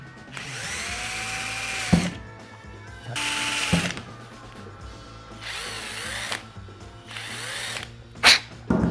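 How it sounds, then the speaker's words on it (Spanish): An electric drill slowly bores valve holes into a plastic bottle in a few separate close bursts, each a rising whir cut off by pauses, with small clicks and knocks between them. "vamos a darle con la agujereadora, eso sí, con cuidado, despacito"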